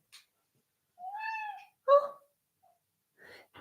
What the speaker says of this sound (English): the smallest little meows